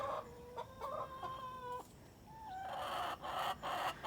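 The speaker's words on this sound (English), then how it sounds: "Silly chickens." Chickens cluck and squawk close by in short bursts, with one drawn-out call, some scratchy rustling between calls.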